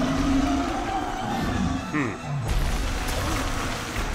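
An arena crowd in the Fable Anniversary game roars and jeers in a dense, continuous wash of noise, with a few thuds of combat and voices talking over it.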